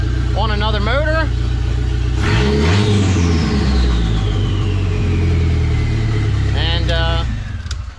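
A Dodge SRT-4 engine runs loud and steady on a transmission test for a third-gear pop-out fault, with a falling whine and surging revs while voices speak briefly over it.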